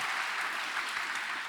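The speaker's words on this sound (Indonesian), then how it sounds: "Tepuk tangan bagi Allah kita." A church congregation claps during a Sunday service, a dense, loud and even wash of applause from many hands that runs through the whole short moment.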